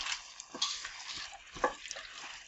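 Corned beef and cabbage stew simmers in a pot, a soft bubbling sizzle with small irregular pops and light stirring, close and unaccompanied by voices.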